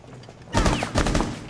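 A burst of gunfire in Rainbow Six Siege erupts after a quiet moment, with several rapid, loud shots crackling close by in quick succession.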